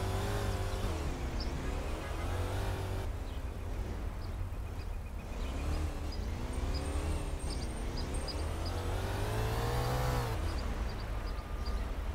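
A car in a Roblox game drives on with a steady, droning engine note that rises and falls as it revs, loud and continuous, with faint knocks in between.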